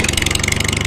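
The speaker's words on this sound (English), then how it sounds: "motorcycle" Motorcycle engine idling with a steady, rapid pulsing rumble, loud and close, running continuously with no talk over it.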